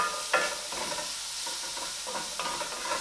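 Onions being stirred in a frying pan for lamb rogan josh, a steady close sizzle and hiss with scattered scraping strokes of the spoon against the pan.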